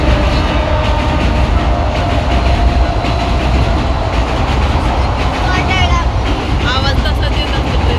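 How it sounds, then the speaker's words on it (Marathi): A local suburban train on the line toward Lonavala rumbles past loudly and continuously, with rhythmic rattling of the wagons and a brief squeal of wheels near the end, heard close by. "आवाज तसाच येत असतो ट्रेन"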